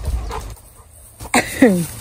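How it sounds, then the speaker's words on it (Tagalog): A dog gives a short whimpering yelp, then a louder whining cry rising and falling, close by in a quiet house after a brief silence. "gustong-gusto ko yung aso"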